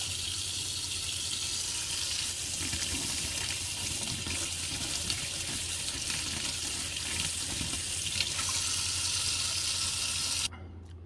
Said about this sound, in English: Now I'm going to go rinse it under the water.